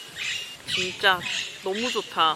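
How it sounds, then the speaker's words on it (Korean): Birds chirp and call in a sunny Amsterdam park, a faint, steady twitter in the background while a person talks over them close by. "새소리 들리세요?"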